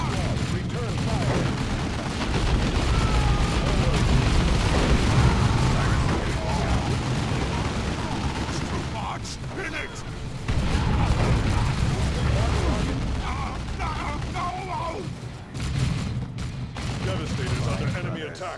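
Dense gunfire and explosions from the Warhammer 40K strategy game Dawn of War II on the Argus Settlement map, a loud continuous rumble of shots and blasts with unit voices speaking over it.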